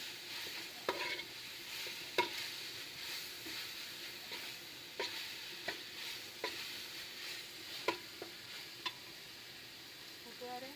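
Curry leaves fry in a pot of Kerala-style bone curry, a faint, steady sizzle dotted with scattered sharp pops and crackles.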